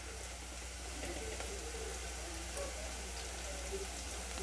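Chopped onion frying with a pinch of salt in a pan for a beetroot vegetable dish, a steady close sizzle with faint crackles and pops running evenly throughout.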